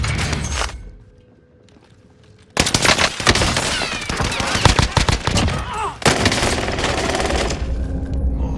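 Video game gunfire erupts in loud, sustained automatic bursts after a brief quiet lull, dense rattling shots continuing to the end with layered firing and impacts, close and intense.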